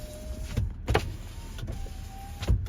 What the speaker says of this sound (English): Well, select your windows, they all work.